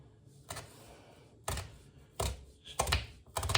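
A knife chops through a roast duck on a board, four sharp, close thunks spaced about a second apart, with no talking.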